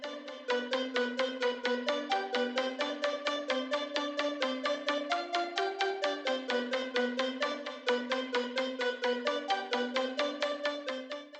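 Main melody layer for a track's break section, made in FL Studio: a plucky synth pattern of rapid repeated notes in a steady rhythm, shifting pitch every few beats, loud and alone for about eleven seconds.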